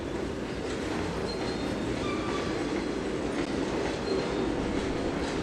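A freight train rolls steadily over a hump yard in the Trainz 2022 simulator, a continuous loud rumble of wheels on rail with faint clickety-clack and a few thin wheel squeals throughout, no voices.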